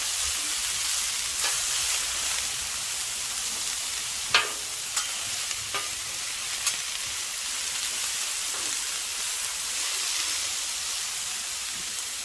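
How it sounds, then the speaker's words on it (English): Chicken wrap filling spread across a hot griddle sizzles in a steady, even hiss, with a few sharp spatula taps and scrapes scattered through, close by and without talk. "I'm just going to spread all this across the griddle"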